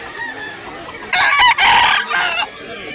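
A rooster crows loudly and close at a gamecock market in Cebu, one drawn-out cock-a-doodle-doo in several bursts over faint background chatter and bird calls.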